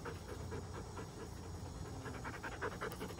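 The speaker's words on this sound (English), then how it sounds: "when you have dogs like this. They're going to wrestle and romp and play hard." A black and tan dog and a Dutch Shepherd pant quickly and continuously while wrestling and playing rough, a faint, breathy rhythm with no talk.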